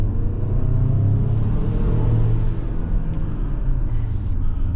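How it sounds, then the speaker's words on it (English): Inside a Kia Telluride with its turbocharged four-cylinder engine, a constant low road and engine rumble carries a faint turbo whine as the SUV drives at a steady pace. "So you get a little bit of that kind of turbo whine"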